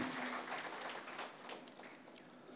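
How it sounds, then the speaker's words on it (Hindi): Audience clapping at a lecture session, a dense, steady patter of many hands that begins full and slowly thins out over a couple of seconds, with no voices on top. "जोरदार ताली जोरदार ताली होनी चाहिए"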